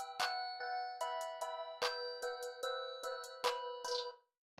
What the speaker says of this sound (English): I'm just going to draw in the basic clap pattern. Now the beat sounds like this so far.